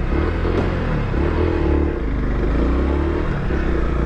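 Yamaha Crosser 150 ABS 2022 motorcycle engine revved in neutral, a steady close rumbling idle with low harmonic throb and a mild swell of revs, continuous and loud without talk.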